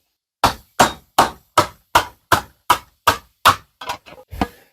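Planishing hammer built from scrap metal striking sheet metal, about nine sharp metallic raps in an even rhythm followed by a few quicker, softer taps, loud and close with no voices.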